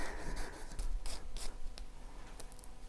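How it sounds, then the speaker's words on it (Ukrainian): A rag rubs ordinary mineral oil into the chain of a Karcher cordless chainsaw, giving soft, close scrubbing and swishing strokes in uneven bursts with no talking. "втираю ганчіркою"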